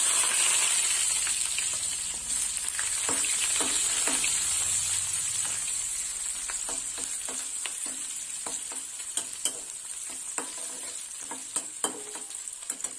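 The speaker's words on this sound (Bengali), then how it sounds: "এবার দেবো কুচনো পেঁয়াজ।" Chopped onion frying in a pan of oil already tempered with black cumin, bay leaf and two dried chillies, a steady close sizzle with scattered crackles and light stirring taps.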